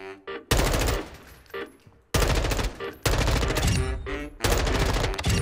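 Bursts of automatic M4 rifle fire in the shooting game Modern Warfare II, four loud rapid volleys separated by short pauses in a firing range.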